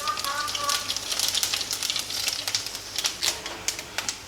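Mustard seeds and a spice mix crackle and sizzle in hot coconut oil, a dense run of sharp pops and spits over a steady hiss, close and fairly loud throughout.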